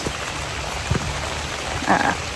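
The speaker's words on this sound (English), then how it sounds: "I'm gardening in the rain, but whatever." Steady rain falling on a garden on a warm summer day, a continuous close patter with a couple of brief sharper knocks, no voices.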